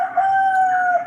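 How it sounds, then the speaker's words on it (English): A rooster crows once in a long, loud, sustained call, clear and fairly close, with no talk over it. "the roosters are off"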